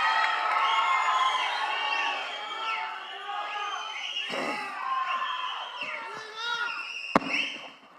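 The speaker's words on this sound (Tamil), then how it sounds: "ப்ளீஸ் ஒரு பெரிய கைத்தட்டல" Crowd cheering and whooping at a film pre-release event on stage, a dense wash of shouts and cheers running throughout, with a sharp bang near the end.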